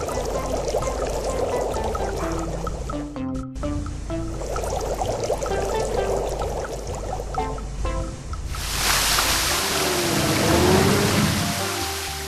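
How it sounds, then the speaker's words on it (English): Water pouring in a children's vehicle video game, a steady rushing stream under bright game music, growing louder and noisier toward the end as the filling continues. "Let's fill it with water and turn the fountain on."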